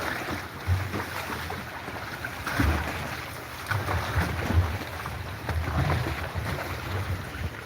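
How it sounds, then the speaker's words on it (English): Rough, choppy water slaps and churns around a yacht in Juneau, Alaska, while gusty wind buffets the microphone, with irregular surges of louder splashing. "That is some choppy water."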